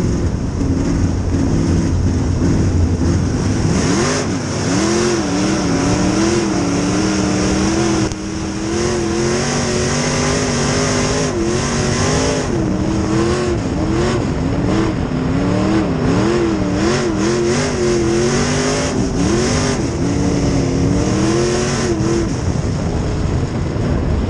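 A B-Modified race car at Springfield Raceway roars steadily from an in-car camera, its engine loud and close throughout with repeated rising and falling revs through the laps.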